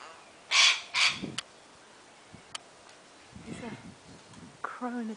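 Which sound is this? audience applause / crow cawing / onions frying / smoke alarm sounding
crow cawing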